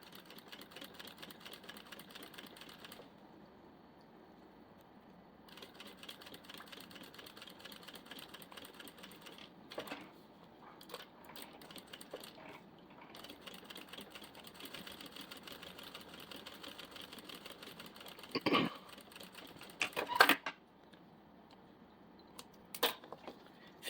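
A sewing machine stitches a diaper bag strap at a 4.5 to 5 stitch length, a faint, steady mechanical whir running continuously with a few sharp clicks and knocks near the end.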